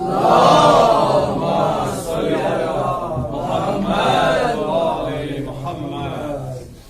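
Mourners at a Shia majlis-e-chehlum gathering raise a loud, sustained collective chant of the salawat, many voices swelling together in waves for several seconds in a large hall.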